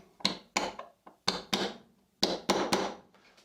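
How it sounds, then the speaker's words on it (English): A nail set struck with a hammer to drive 23 gauge pin nails into wood: seven or eight sharp, close taps in uneven clusters, each ringing briefly before fading. "I'm going to use a nail set to pound down the"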